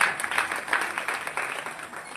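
A crowd applauds a grandmother at a Navratri kirtan, a lively spread of many hands clapping that swells and fades over a couple of seconds.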